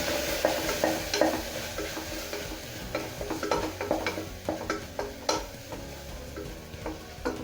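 Spices being stirred into potato and spinach frying in a pan, with a steady sizzle under repeated scraping and clinking strokes of a spoon, close and moderately loud, no talking.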